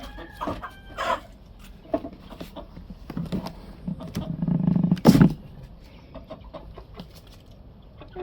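A 60-day-old Cobb 500 broiler rooster makes scattered low clucks and throaty calls amid handling noises, growing louder toward a harsh burst before settling again.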